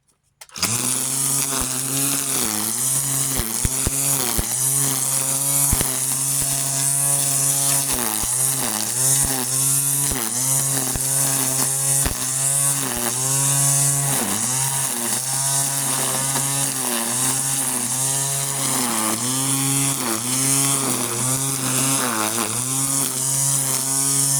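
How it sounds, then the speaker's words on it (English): A gas string trimmer cuts weeds beside a back porch pad, its engine droning loud and steady at close range for the whole stretch, with the pitch dipping and surging as it bites into growth. "Now I'm gonna weed eat a little bit right here"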